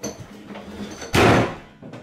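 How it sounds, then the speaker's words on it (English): A door slammed hard in a house, one loud sharp bang with a brief rattling decay, after softer faint knocking and shuffling. "That's how you slam a door."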